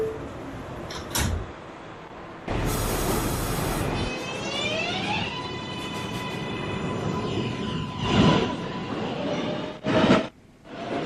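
An automated NYC subway 1 train at Chambers Street station on a Manhattan-bound run, with a loud burst of door and car noise, then rising motor whine and rail squeal as it pulls away; no one talks.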